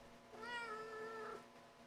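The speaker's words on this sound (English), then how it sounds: "my cat understands what I say" A pet cat lets out a single clear, drawn-out meow, close and moderately loud, with its pitch rising then falling over about a second, alone against a quiet room.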